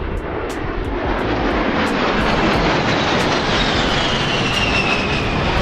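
A propeller airplane roars steadily overhead, loud and close, its engine drone filling the air without pause.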